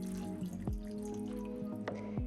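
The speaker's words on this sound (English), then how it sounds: "once it is free of clumps, let's pour that into our beef stew" Flour slurry poured into crockpot beef stew with red wine, a soft liquid trickle with small drips and plops over a steady low hum, faint and close, no voices.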